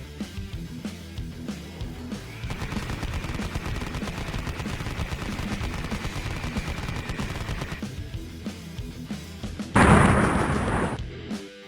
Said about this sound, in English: I'll hop on one of these old turret guns and hold them off.